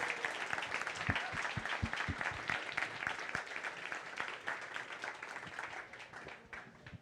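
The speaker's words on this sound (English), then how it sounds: "another round of applause for Jim Ottaviani" An audience at a nerd-themed talk night claps in a sustained round of applause after a talk, with scattered distinct close claps over a dense wash of hands, slowly fading toward the end.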